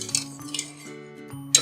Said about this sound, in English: We're gonna whisk it together for just a minute or two.